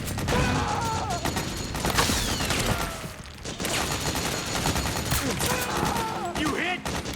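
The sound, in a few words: suppressing gunfire in Metal Gear Solid 4 video game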